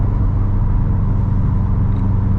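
A Subaru WRX STI with new suspension cruises at speed, heard from inside as a loud, steady low road and engine rumble with no talk.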